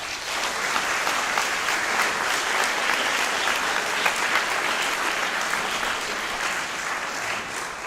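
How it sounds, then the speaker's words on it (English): Students at a senior awards event give their family members a round of applause, a dense, even roar of many hands clapping that holds steady and loud from start to finish. "Students, I'd like to ask you to give your family members a round of applause for their support."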